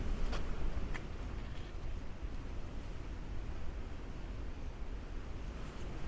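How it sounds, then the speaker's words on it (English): Strong wind gusts outdoors beside a castle staircase, a loud, steady roar buffeting the microphone with rumbling low-end pressure throughout, no voices. "the wind on that again is absolutely horrendous"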